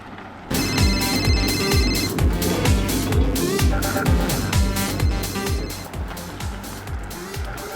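An electronic phone ringtone trills in a repeating pattern, loud and close, over a background of car engine noise.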